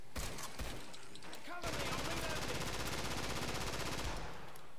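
Fully automatic gunfire in a video game: after a few scattered single shots, a rapid unbroken burst of rattling fire runs for about three seconds, loud and close.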